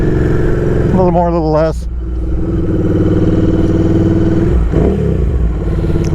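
A Royal Enfield Interceptor 650 with an aftermarket exhaust pipe blips through a quick rev, then settles into a steady, rumbling idle close by, with someone talking over it.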